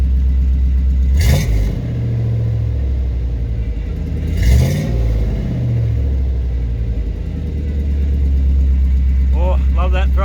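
A 1988 Chevy V30 truck with an all-new welded exhaust revs twice in loud, deep surges over a steady rumbling idle, with a voice speaking briefly near the end.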